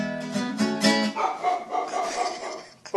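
A dog barks in a quick run of several loud, close yaps and yips, with a short whimpering edge toward the end of the bursts.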